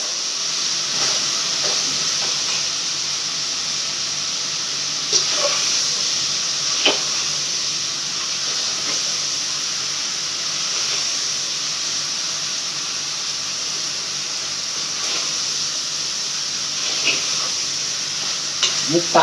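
Tomatoes and onions sauté in a pan with a steady soft sizzle and hiss, broken by occasional clinks and scrapes of stirring, with no voices.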